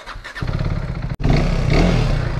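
A KTM RC 390 motorcycle engine idles roughly, cuts out briefly, then catches again and settles into a louder, steady, throbbing idle close by, with no talking over it.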